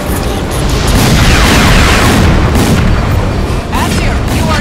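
Crysis 2 missile launch and blast: a continuous loud roaring rush with heavy low rumble that holds steady for several seconds, with a brief dip and renewed burst near the end.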